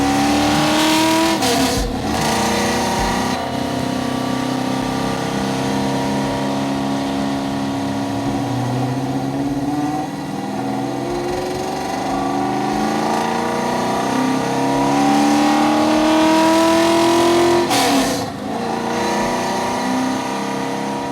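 Classic red Ford Mustang fastback's engine runs loud and close, pulling through rising and falling revs with a couple of sharp blips and gear changes over about twenty seconds, with no voices.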